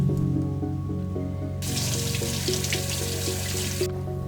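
Squid rinsed under a running kitchen tap, water gushing loudly for a couple of seconds and then cutting off, with steady background music throughout.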